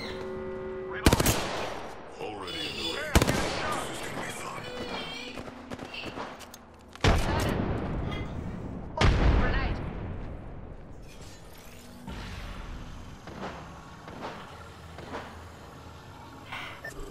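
Gunfire in a space shooter game: several loud, sharp blasts, some in short bursts and spaced a few seconds apart, with fainter shots and game noise in between.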